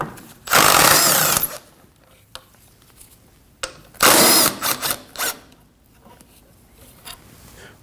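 A power tool whirs in two loud bursts while removing 10 millimeter bolts on a 2015-2024 Ford Edge 2.0L during radiator fan replacement, with clicks and clatter between the runs.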